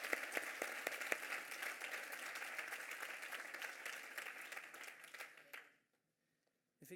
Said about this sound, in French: Je voudrais qu'on fasse un grand tonnerre d'applaudissements à Albert Escande qui a présenté cette soirée